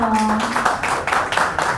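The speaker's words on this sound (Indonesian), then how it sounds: "Oke, tepuk tangan dulu dong." An audience at a political talk on the 2024 US election claps briefly, a dense patter of hands that starts as a voice trails off and continues steadily, moderately close.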